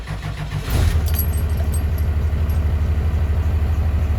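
A 1994 Chevrolet Blazer fitted with a swapped Cummins 6BT diesel engine rumbles into a loud, steady idle after the key is turned, with faint jangling of keys early on.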